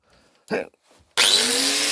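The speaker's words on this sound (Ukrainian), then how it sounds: "Держу болгарку і починаю" After a short thump and a pause, an angle grinder whines up loudly and bites into an aluminium profile, a harsh high screech that continues to the end.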